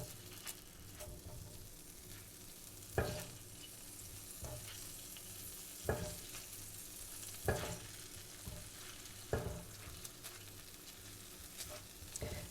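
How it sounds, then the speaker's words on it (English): Ginger garlic paste sautés quietly in a pan for Chinese-style spring onion rice. A soft, steady sizzle is broken every couple of seconds by scraping stirs. "I'm going to add some of that to it as well. Saute this a little bit."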